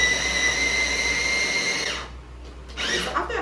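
A food processor grinds siomai filling with a loud, steady motor whine for about two seconds, then spins down and stops, followed by a brief clatter and a short second whir.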